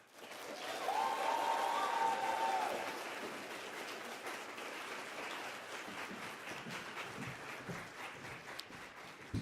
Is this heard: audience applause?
yes